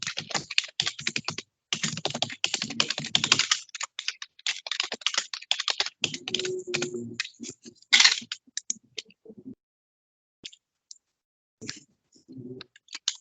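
Fast typing on a computer keyboard, with close, crisp key clicks in bursts and short pauses between them, heard alone without talk.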